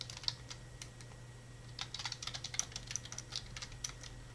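Quiet typing on a computer keyboard while entering an assignment title, a sparse few keystrokes at first and then a quicker run of soft clicks, close and faint, with a low steady hum beneath and no talking.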